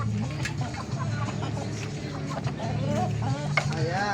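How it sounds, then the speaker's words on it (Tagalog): Backyard chickens clucking near and far while pecking at a feed of cabbage and commercial feeds, scattered clucks and calls over someone speaking. "Pakainin na natin itong ating mga manok mga abyan"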